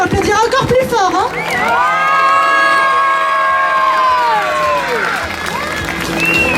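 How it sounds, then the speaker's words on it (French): An audience at a children's fashion show cheering and whooping, with high shouting children's voices and some clapping, loud and sustained crowd noise close by. "il faut applaudir encore plus fort"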